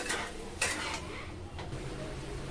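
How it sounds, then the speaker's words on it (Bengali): Food seasoned with turmeric is stirred in a pan with a metal utensil, giving a few close scraping clinks over a low, steady sizzle. "একটুখানি এটা নাড়াচাড়া করে আবার ঢেকে রাখবো"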